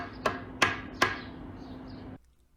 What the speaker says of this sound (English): I have to shove this wedge in here